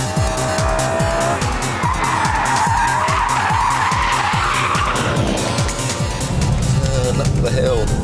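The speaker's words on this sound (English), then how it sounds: "With a BMW and that sort of power, there's always a little bit of oversteer." A powerful BMW CSL on a race track holds a loud, continuous tire squeal while oversteering, its engine note rising and falling in rapid gear-like sweeps, up close and dominant throughout.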